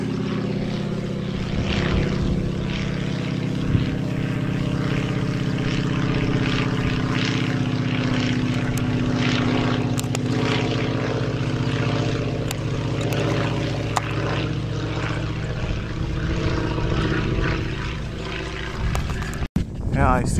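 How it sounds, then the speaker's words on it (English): Propeller biplane passing overhead during a spring hike on horse trails at Rock Cut State Park, a steady loud drone holding through the whole stretch under outdoor ambience. "Now a biplane is coming over us."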